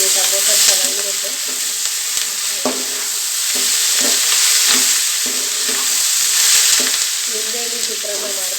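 Tomatoes fry in a pan for tomato chitranna, giving a loud, continuous sizzle broken by a few soft stirring scrapes, with no voices.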